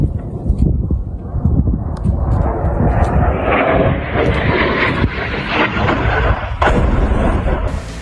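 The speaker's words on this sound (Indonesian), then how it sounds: "Sisa material bangunan pun terlempar ke udara saat ledakan terjadi." A loud explosion from an Israeli air strike in Gaza roars and rumbles continuously, with building debris crashing and a deep, sustained blast noise filling the scene.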